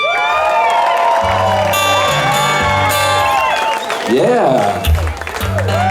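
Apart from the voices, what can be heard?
audience applause and cheering for a performer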